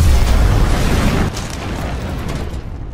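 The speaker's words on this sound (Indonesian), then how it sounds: "mobil Anders pun meledak." A car blows up in a film scene, a loud broad boom that rolls and then settles into a lower, fading rumble with debris-like crackle, no voices heard.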